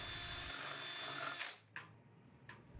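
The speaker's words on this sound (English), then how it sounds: "Then drill your hole until its depth measures approximately" A power drill bores a hole into a wooden post while fitting cable railing lag end stops. The motor whirs loudly and steadily for about a second and a half, then cuts off, followed by a couple of faint knocks.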